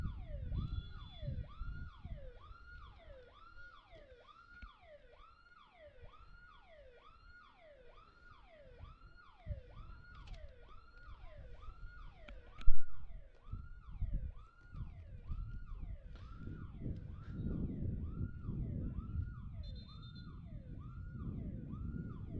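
A wailing emergency siren sweeps up and down in a fast repeating yelp pattern at a soccer field during an amateur cup championship match, moderately distant, over outdoor crowd and field noise with a sharp thump midway.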